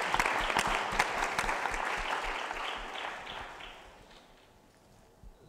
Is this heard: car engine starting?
no